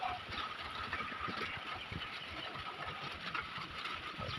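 A mid-sized engine cranks and catches, then settles into a steady, rough idle, fairly faint and unbroken, with no talking.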